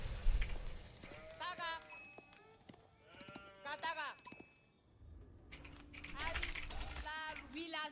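Sheep bleat repeatedly in the real-time strategy game Age of Empires IV, several wavering cries at moderate loudness mixed with game effects and someone talking over them.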